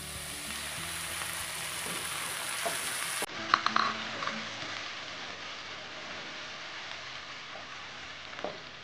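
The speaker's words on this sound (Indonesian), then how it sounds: "Kemudian sekarang saya tuangkan sedikit air" A little water poured into a pan of frying onions sets off a burst of sizzling. Steady hissing gives way to a sharper crackle and a few clinks partway through, then settles into a quieter simmer with no talking.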